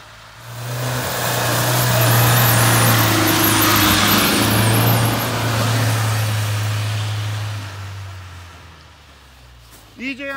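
Dacia Duster engine revving hard while the car is stuck in mud on a mountain track, a loud sustained roar that rises and holds for several seconds, then eases off near the end.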